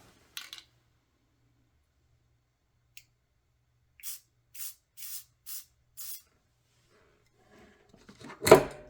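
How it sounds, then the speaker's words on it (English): Gorilla spray adhesive hisses into a box in a row of five short bursts after an initial brief spray, with quiet pauses between them and a louder handling noise at the end. "Going to use some Gorilla spray adhesive. So I'm just going to spray this in the box."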